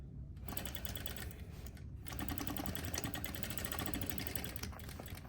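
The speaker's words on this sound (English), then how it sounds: "I'm just going to go back and forth a few times, forward stitching, back stitching, to really get that sewn correctly." A sewing machine runs forward and then back over a fabric waistband, a steady close mechanical whirr of rapid stitching that carries on almost without a break.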